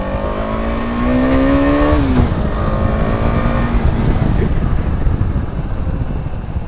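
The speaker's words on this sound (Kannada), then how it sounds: "ಫಸ್ಟ್ ಟೈಮ್ ಈ ಥರ ಅಡ್ವೆಂಚರ್ ಗಾಡಿ ಹೊಡಿತಿರೋದು." An adventure motorcycle pulls away loudly with a rising engine whine that shifts up, then settles into a steady, rough engine roar under heavy wind noise.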